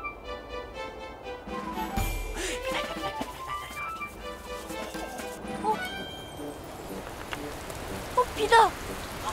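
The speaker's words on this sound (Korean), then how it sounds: "비가 내리고 있어." Rain falling during an outdoor scene in a children's detective drama, a steady broadband wash running throughout, mixed with music and effects and a brief low thump early on.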